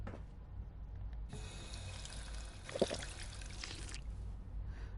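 Purified water runs steadily from a tap or fountain in the game Fallout 4, a continuous close trickle and splash with a brief louder gush partway through.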